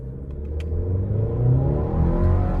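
A 2026 Chevy Colorado WT pickup at full throttle in two-wheel drive with traction control off, its turbocharged engine droning and rising steadily in pitch as boost builds; heard from inside the cab, moderately loud, with no talking.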